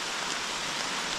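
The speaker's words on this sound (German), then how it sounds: "Der Regen hat leider nicht nachgelassen." Steady rain falling through a damp forest on a trekking route in the Palatinate, a dense, even hiss of drops on leaves and ground with no pauses or voices.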